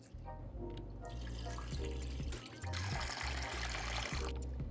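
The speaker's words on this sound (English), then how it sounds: "We're first gonna wash and soak the rice." Rice being washed in water for a kheer ladoo rice pudding dessert gives steady sloshing and splashing, with running water and swirling grains heard up close throughout.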